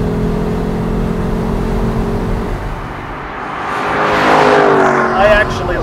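Lexus LC V8 engine rumbling steadily and then revving up, with the pitch rising toward the end, heard close from inside the car.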